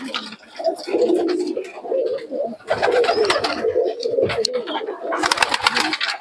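Patta pigeons at a pigeon market in Murshidabad coo in soft, repeated low calls amid market bustle and bursts of rustling, with people talking nearby.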